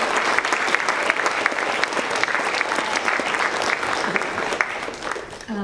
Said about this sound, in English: If we could give her a round of applause and tell her thank you.